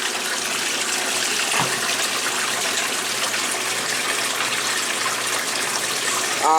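A 1996 Maytag Dependable Care Plus direct-drive washing machine spins on a regular cycle, giving a steady, loud, broadband rushing wash of water and motor noise. A brief thump comes partway through, and a short rising tone sounds at the end.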